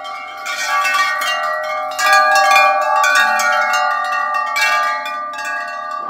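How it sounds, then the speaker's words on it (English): A larger chime is struck several times. Bright, sustained metallic tones ring and overlap as new strikes land, close and loud, with no talking. "Yes, a bigger chime."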